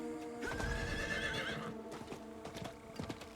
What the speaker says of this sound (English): he's even got his own horse